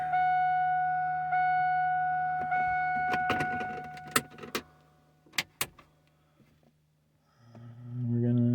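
An LS3 V8 with 317 heads and an LS1 cam starts from cold: a humming tone and a few sharp clicks, a silent pause, then the engine catches and swells into a deep, loud idle rumble.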